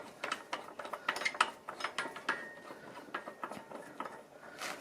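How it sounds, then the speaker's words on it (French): A wrench ratchets as a cable bolt nut on a K-type rail fastening with a double-coil spring washer is tightened, giving quick, close metallic clicks in an uneven rhythm, without speech. "Et nous prenons notre clé puis à fond et clé pour les écrous"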